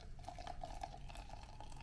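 Water is poured quickly into a coffee brewer, giving a quiet, steady splashing trickle that runs throughout without pause.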